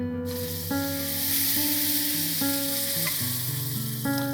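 Loud steady sizzle as 500 ml of full-fat milk is poured into a pan of roasted broken wheat (dalia) for halwasan, with a tonal hum running underneath throughout.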